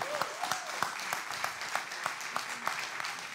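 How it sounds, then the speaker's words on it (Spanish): Congregation applause during a Spanish-language church sermon, fairly quiet rhythmic clapping with distinct periodic claps standing out and a faint voice in the background. "Dele palmas al Señor."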